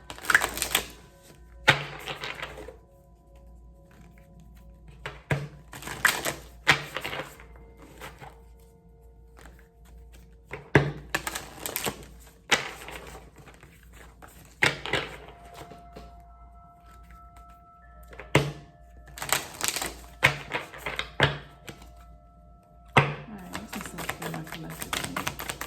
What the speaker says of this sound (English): Let me shuffle about 4 times.